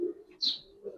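Giribaz coloring pigeons coo close by, a low throaty coo at the start and another near the end, with a brief brighter chirp between them.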